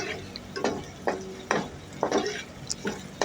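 Garlic paste is added to frying onions and stirred, giving a soft background sizzle with several distinct scraping strokes of a utensil against the pan.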